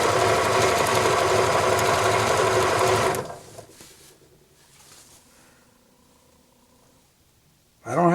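A Janome Memory Craft 6500 sewing machine runs loud and close with a steady whirring buzz for about three seconds, then stops, leaving quiet room noise before a brief restart at the end.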